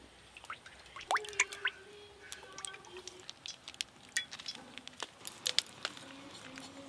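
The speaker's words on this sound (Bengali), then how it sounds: "একটা একটা করে বেসনে ডুবিয়ে ভেজে নেব" Battered pumpkin flower fritters dipped in gram flour batter frying in white oil: soft crackling pops and sizzling spits scattered irregularly over a faint bubbling bed, close and fairly quiet, with no talk.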